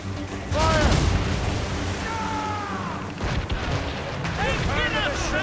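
Naval cannons boom repeatedly during a sea battle in Assassin's Creed Rogue, heavy low blasts rolling under shouted commands and voices throughout.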